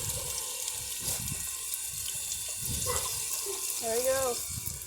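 Water rushes steadily inside a Sital SEI dishwasher under repair, a fairly quiet continuous flow with a few brief tonal squeaks toward the end.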